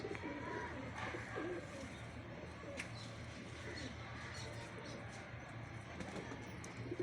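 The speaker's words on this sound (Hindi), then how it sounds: "लो जी देखे जी टाइसन कबूतर।" Tyson pigeons coo softly and repeatedly in a quiet setting, with faint low calls, light rustling and a hint of distant voices.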